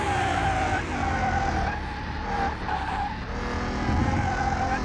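A car on street tires in Car Mechanic Simulator 2021 skids steadily as its rear end slides out under full throttle, a loud continuous tire squeal over the engine note, with no talking.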